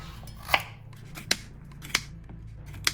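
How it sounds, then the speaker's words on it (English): Knife cuts through carrots on a board for a homemade curry: four crisp, evenly spaced chops, close and clear over a low background hum, with no talking. "now what we're gonna do is we're gonna cut the carrots first"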